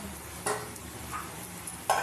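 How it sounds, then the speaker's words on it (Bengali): Onion sizzles steadily as it fries in a pan, with a few sharp scraping stirs of a utensil breaking through the continuous hiss. "চলো পেঁয়াজটা ভাজা হতে থাক, আর একটু এটাও নেড়ে দিই"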